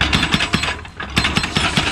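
A hydraulic breaker hammer mounted on a Doosan excavator chisels concrete on a riverbank dike, loud close repetitive pounding in rapid bursts with a brief pause between runs.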